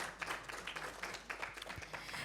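An audience at an Omani-British press forum on dialogue between civilizations breaks into steady applause, a dense, even patter of many hands clapping at moderate distance for the whole stretch.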